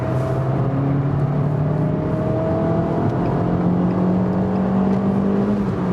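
An Abarth 595C Turismo with a 1.4-litre turbo engine revving up steadily under acceleration in third gear, its droning pitch climbing gradually over a constant rumble of road and wind noise.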